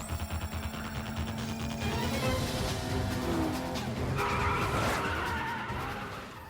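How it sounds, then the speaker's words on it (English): A car in a film scene drifts through a long tire skid, a loud sustained squeal of rubber over engine roar that swells and shifts pitch across the passage, with no talk. "ended up finally able to do that big drift"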